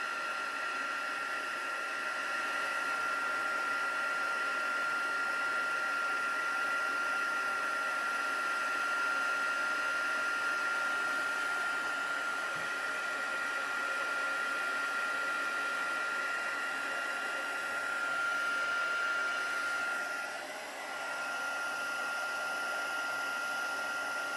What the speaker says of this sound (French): Donc là, pareil, je viens sécher au heat gun.